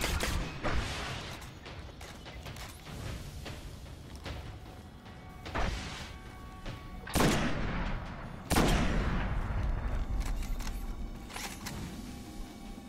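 Auto rifle gunfire in Destiny during a solo Nightfall strike against Valus Ta'aurc, sustained bursts of rapid shots over a busy background of combat noise, with two louder impact blasts midway.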